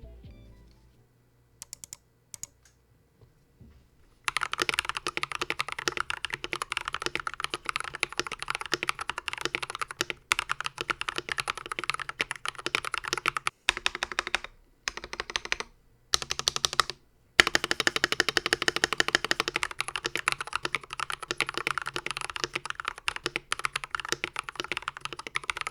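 Typing on an Akko 3098B wireless hot-swap mechanical keyboard: rapid, close, steady clacking of keys, broken by a few short pauses.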